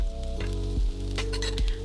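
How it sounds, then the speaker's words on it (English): Vegetables sauté in a skillet with a steady sizzle beneath a low, droning hum, while brief scraping pushes come at roughly even intervals. "I saute them till I start to see them brown a little bit on the edges"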